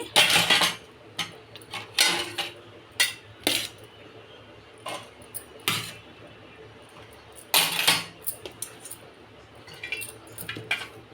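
A metal spoon clinks against a bowl while sweet corn masala is scooped in, sharp scattered taps and scrapes coming in bursts with quiet gaps between.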